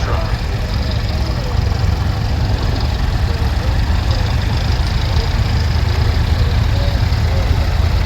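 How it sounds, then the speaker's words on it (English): A David Brown tractor with straight cut gears in the gearbox and back end runs steadily at a show, a loud, dense engine drone filling the clip close by, with voices talking faintly under it. "You can always tell a David Brown because of the straight cut gears in the gearbox and the back end"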